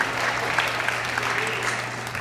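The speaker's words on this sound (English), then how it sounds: "Give them another round of applause." Steady applause from an audience at a Juneteenth school celebration after a middle school choir's performance, moderately distant and even throughout, with a low hum beneath it.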